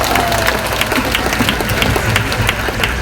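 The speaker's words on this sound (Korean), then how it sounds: "감사합니다. 박수하겠습니다." A large crowd at an outdoor Sunday worship rally in Gwanghwamun, Seoul, applauds steadily throughout, a dense wash of clapping at fairly close range with no pauses.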